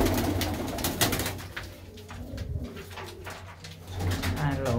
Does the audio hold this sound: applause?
no